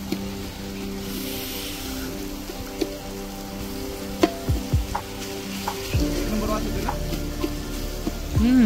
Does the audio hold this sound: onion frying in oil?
yes